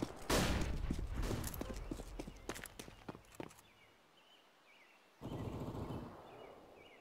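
Flashbang pop and bursts of gunfire in Counter-Strike, sharp close cracks in rapid succession for a few seconds, then a quieter lull before a renewed wash of noise.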